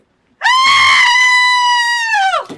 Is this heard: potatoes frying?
no